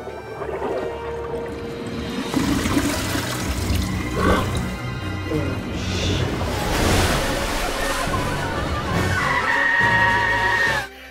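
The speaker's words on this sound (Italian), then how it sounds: "un gabinetto che aveva preso vita e che, faceva la doccia al povero Le Fou" A toilet that has come to life in a deleted scene from Disney's Beauty and the Beast flushes and gushes water, a loud rushing swell with splashy bursts lasting several seconds.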